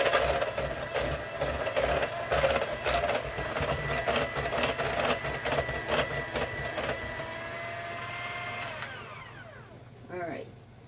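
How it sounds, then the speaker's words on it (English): An electric mixer whirs steadily through chocolate chip cookie dough with vanilla, a loud droning motor with a rhythmic churning texture that runs for most of the stretch, then winds down and stops near the end. "So let's get this all blended in. do think I like this mixer."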